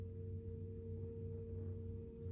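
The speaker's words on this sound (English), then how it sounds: "It's a curious humming sound that seems to come from inside the object." A curious humming sound from inside a mysterious object in a live college radio reading of War of the Worlds: a steady, faint low drone with even tonal layers, alone without talk.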